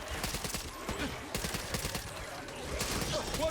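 Dense rapid gunfire in the zombie shooter Back 4 Blood, overlapping shots crackling steadily throughout at a fairly low, distant-sounding level.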